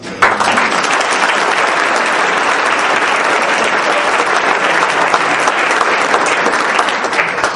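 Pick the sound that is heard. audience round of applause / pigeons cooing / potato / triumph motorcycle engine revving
audience round of applause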